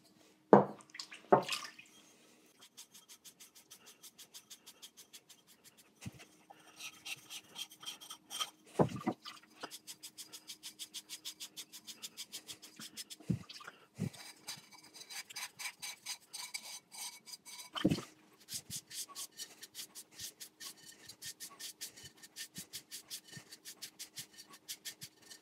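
Damp sponge rubbing over an unglazed bisque-fired pottery bottle to clear dust, a soft rasping scrub in steady strokes that comes up close and alone, with a few louder knocks where the pot is handled.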